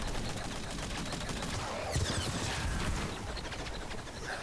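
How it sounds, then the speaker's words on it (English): Rapid gunfire from a facility gun turret in Metroid Prime 4: Beyond, a dense continuous burst of shots with a louder flurry midway, steady and close throughout. "Chase them off with a gun from that facility."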